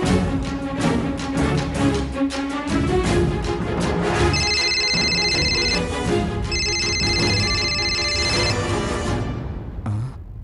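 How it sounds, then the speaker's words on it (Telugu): A mobile phone ringtone plays a bright repeating melodic tune in a Telugu TV serial home scene, rising over steady music for several seconds before the sound fades at the end. "సీతగారి ఫోన్."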